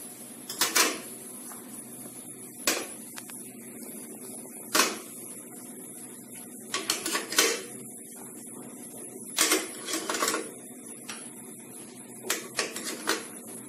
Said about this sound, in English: I will now keep a plate over it and keep these small bowls